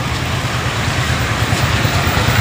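Cars drive over a badly damaged road in Shivalik City, Kharar, making a loud, continuous engine and tyre rumble close by with no break in the noise.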